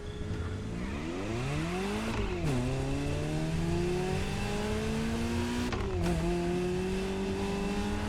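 Ferrari 308 GTS exhaust in The Crew Motorfest racing game, a loud revving engine climbing through gears with two sharp shifts, rising pitch each time, close and continuous with no talk.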